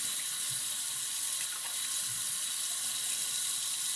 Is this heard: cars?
no